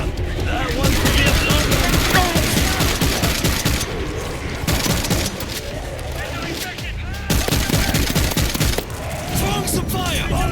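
Continuous gunfire in the zombie shooter game World War Z, dense overlapping shotgun and rifle blasts with brief pauses, loud and close, mixed with game chatter and voice lines.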